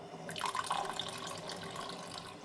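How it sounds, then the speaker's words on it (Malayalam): Coconut milk poured into a pot of green gram payasam makes a soft, brief liquid splash and trickle that fades within a couple of seconds, quiet and close, with no talking. "ഇനി നമുക്ക് തേങ്ങാപ്പാൽ ഒഴിക്കാം."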